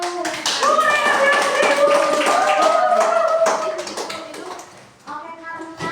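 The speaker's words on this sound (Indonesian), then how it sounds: "Beri tepuk tangan dulu." A junior high social studies classroom breaks into applause, many hands clapping together in a dense, lively burst that fades near the end, with a voice calling out over it.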